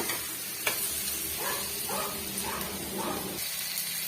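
Tomatoes sauté in a pan for mutton kuzhambu, with a soft continuous sizzle and four rhythmic scraping stirs in the middle, heard up close and alone.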